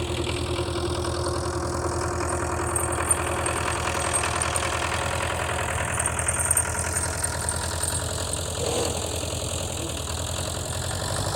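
A vintage International two-wheel-drive tractor plows snow with a scraper blade, its engine chugging steadily in a low, knocking idle throughout, fairly close and unbroken.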